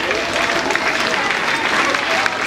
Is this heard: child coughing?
no